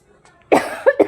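A person with a heavy cough lets out one harsh cough followed by two shorter ones in quick succession, close and fairly loud, with a faint breath just before.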